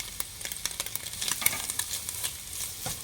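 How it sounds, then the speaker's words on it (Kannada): Onions fry in a pan for street-style egg noodles, a soft, steady sizzle broken by repeated light scrapes and taps of stirring, with no voices. "ಈಗ ಈರುಳ್ಳಿ ಹಾಕ್ಕೊಳ್ಳೋಣ. ಈರುಳ್ಳಿ ಫ್ರೈ ಮಾಡ್ಕೊಬೇಕೀಗ"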